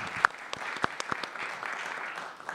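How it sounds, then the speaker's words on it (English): Audience applause at a jazz congress panel, a burst of clapping with distinct sharp claps at first that settles into steady, moderately loud applause from a nearby crowd. "So you should really clap for the Sicklers."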